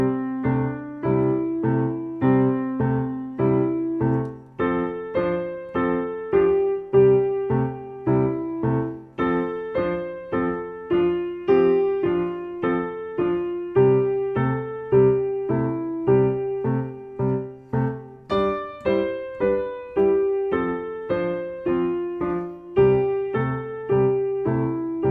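A simple blues improvisation on a keyboard, following a 12-bar form: a steady repeating bass pattern under a wandering melodic line, sustained and close, with no voices.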